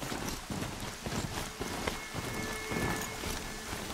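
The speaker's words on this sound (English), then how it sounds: "It's so overcast because of this rain." Steady rain falls across a game world in Horizon Zero Dawn, a dense hiss of drops with low rumbling thunder beneath, continuous and fairly loud with no talking.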